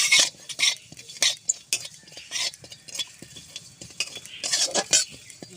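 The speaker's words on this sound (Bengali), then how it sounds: "শুকনো খোলায় গোটা জিরেটা ভেজে নেব।" A spatula scrapes and stirs whole cumin seeds as they dry-roast in an empty pan. The stirring comes as repeated close metallic scrapes and clinks with a light rustle between them.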